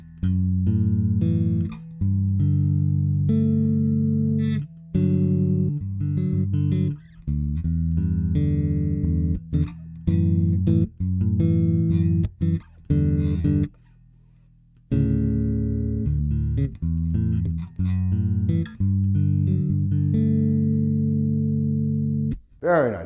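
Fender American Vintage II 1966 Jazz Bass played in chords and articulate lines, low notes sounding close and clear in phrases separated by short pauses.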